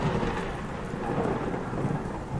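Steady rain falls in very cold weather, with a low rolling rumble of thunder running through it at moderate loudness, and no voices.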